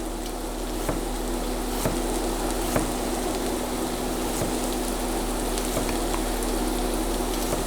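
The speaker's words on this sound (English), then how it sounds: "So I can't talk and chop with this knife because it's seriously sharp." Sharp kitchen knife chopping ingredients for chicken and sweetcorn soup, a slow series of crisp, evenly spaced cuts roughly once a second over a steady background hiss.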